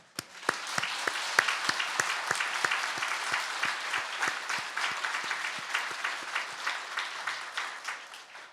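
A church congregation claps during a Christmas service, with sharp, fairly regular claps standing out over a steady wash of applause that stays sustained across the whole span.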